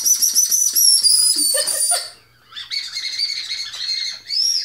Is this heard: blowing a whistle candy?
yes